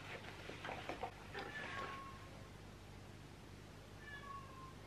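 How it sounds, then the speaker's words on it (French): A cat yowls indoors for its food, a couple of drawn-out, fairly faint meows over a low steady hum, with a longer quiet gap between the calls. "mais là il y a mon chat qui hurle"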